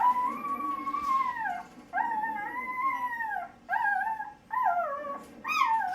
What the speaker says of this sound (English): this is just a puppy that's been born